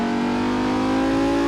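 An Audi R8 V10 driven hard in Assetto Corsa, its engine giving a loud, steady, high-revving drone held close for the whole stretch, with no speech over it.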